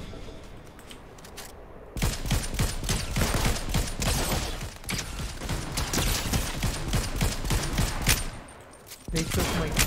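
Dense Fortnite gunfire from players fighting nearby, a steady rattle of rapid shots and bursts that runs for most of the stretch before cutting out near the end, with faint mechanical clicks mixed in.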